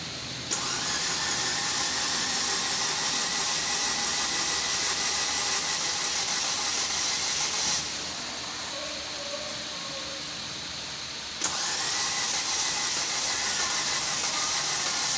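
A Ford EcoSport's replacement engine turns over and settles into a steady, loud idle that runs on, dipping briefly before revving back up.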